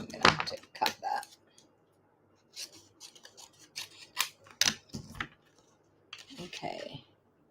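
Scissors snipping paper during stamping and card crafting, several separate crisp cuts in short bursts with pauses between, close by, with a person talking softly in between.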